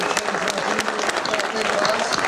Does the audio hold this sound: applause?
yes